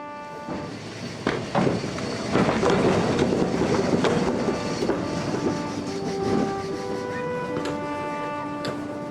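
A German tram runs at a tram museum, wheels clicking and clattering over rail joints with rumbling and a faint squeal, moderately close, without speech.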